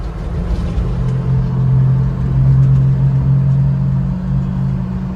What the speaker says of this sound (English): Third gear, 60 kilometers an hour. Working our way uphill.